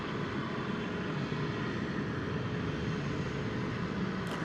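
Distant broad roar of a big UPS jet departing DFW Airport, a steady rumbling engine wash that holds even and fairly faint throughout, with no voices.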